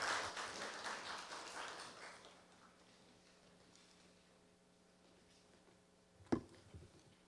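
Audience applause at a Korea University campus town fair ceremony, clapping that starts fairly loud and quickly thins and fades away into near quiet, followed by a single sharp knock or bump near the end.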